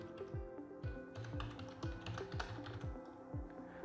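Close, crisp keystrokes on a computer keyboard while a password is entered during a Synology DS920+ NAS setup, the taps coming in quick irregular bursts over a faint low musical bed, with no talking.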